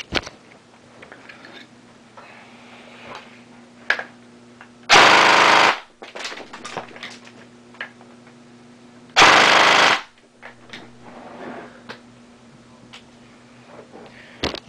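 Airsoft gun with an AWS Sentry MOSFET fires on full auto in a rate-of-fire test: two loud, dense, buzzing bursts about a second long each, separated by quiet handling clicks and low hum.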